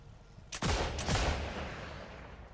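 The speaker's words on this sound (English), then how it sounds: "Shooting them with the wrong ammo." Gunfire in a video game: two sharp, loud bursts about half a second apart, each leaving a fading rumble, over a quiet background with no talking.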